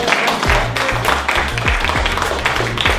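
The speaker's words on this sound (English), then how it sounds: "can we get a round of applause for her" Audience applause for a volunteer during a magic trick review, loud nearby clapping with crisp separate claps over a rumbling low hum, continuing steadily for a few seconds.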